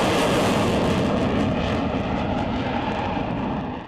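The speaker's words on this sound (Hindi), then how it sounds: "किस तरीके से यहाँ पर रनवे पे यहाँ पर टचडाउन की जो प्रक्रिया है, जो अभ्यास है वो यहाँ पर किया जा रहा है।" A fighter jet lands on an expressway airstrip used for emergency landing practice by aircraft such as the Sukhoi, Mirage 2000 and Jaguar. A loud, close, sustained jet engine roar holds steady, then fades slightly at the end.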